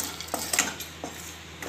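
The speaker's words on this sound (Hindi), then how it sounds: "और इसमें हम काजू, बादाम और मखाने को हल्का सा भून लेंगे।" Cashews, almonds and fox nuts being dry roasted in a pan, heard as a few close, brief scrapes and rattles of nuts stirred against the metal over a low background hiss.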